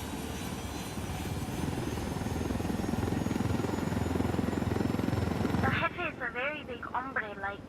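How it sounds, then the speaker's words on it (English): A loud, steady helicopter rotor thrum in the video game Ghost Recon Wildlands fills most of the clip, then drops away as voices take over near the end. "Let's take your helicopter."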